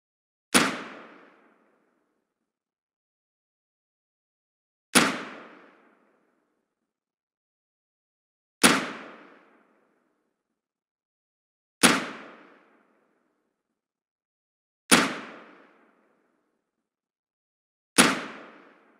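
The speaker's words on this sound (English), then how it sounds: "we're going to use the actual Umarex Colt M45 in single action mode" Umarex Colt M45 (CQBP) air pistol fired in single action mode, six sharp isolated shots spaced several seconds apart, each a loud crack with a quick decaying tail, no talk.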